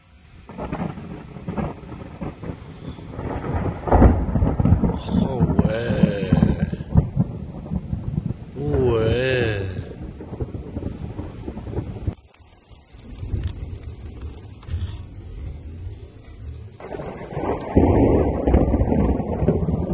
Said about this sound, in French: Hier on a eu une tempête les gars.